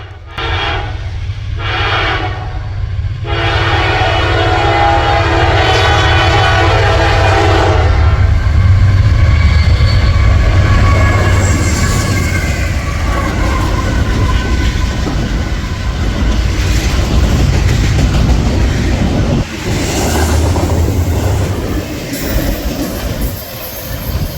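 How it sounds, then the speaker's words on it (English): NS22M, a Norfolk Southern freight led by a spray-painted thoroughbred locomotive with the Lehigh Valley Heritage Unit second, rolls past up close, a loud sustained rumble of wagons under repeated horn blasts early on, with wheel squeal throughout. "the train we were hearing was NS22M with a spray-painted thoroughbred leader and the Lehigh Valley Heritage Unit trailing second"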